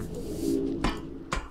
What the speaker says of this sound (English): I now hear pigeons in there.